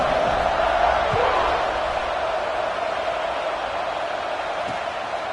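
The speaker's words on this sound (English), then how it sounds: "They're set to kick it off, and this crowd now ready to get behind them." A football stadium crowd roars steadily at kickoff, a dense, loud wash of cheering that fades slightly over a few seconds.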